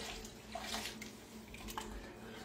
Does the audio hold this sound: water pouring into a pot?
yes